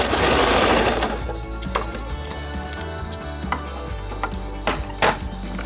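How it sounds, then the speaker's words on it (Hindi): A sewing machine runs a tack on a dhoti-pattern salwar, giving off a fast, steady mechanical whir and clatter up close, with a few sharper clicks near the end. "इस तरह हमने यहाँ पे टाँकी बांध दी है।"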